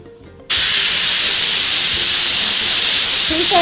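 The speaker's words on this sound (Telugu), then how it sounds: "చూసారు కదండి, 3-4 విజిల్స్ వచ్చేసాయి." A pressure cooker on a stove, cooking for a sweet, vents steam. After a brief quiet start it bursts into a loud, sustained hiss that holds steady to the end.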